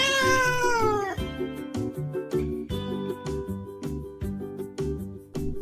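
A cat meows loudly in one long drawn-out call, then shorter rhythmic sounds with a musical backing follow.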